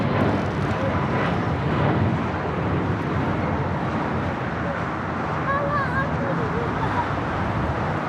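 Airplanes at Los Angeles International Airport, a broad loud jet roar rumbling steadily throughout, with faint chirps and a voice at times.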